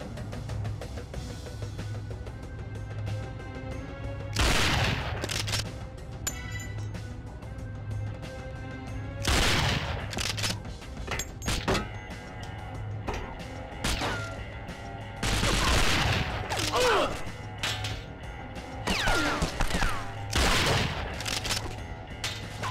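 Gunfire and impacts in the video game 007 NightFire come as sharp intermittent bursts and cracks over a steady mechanical hum and background game sound, scattered irregularly throughout with no clear talk.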